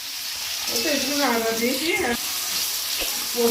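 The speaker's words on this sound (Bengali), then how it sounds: "একটু আলুটা লাল লাল করে ভাজা হোক" Potato pieces fry in a pan with a steady, moderately loud sizzle and crackle, while a voice sounds briefly over the middle of the clip.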